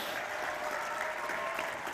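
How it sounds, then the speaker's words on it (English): A crowd claps at a tribal fair, with close, even applause that holds steady for two seconds. "how about one big round of applause for Bimini here?"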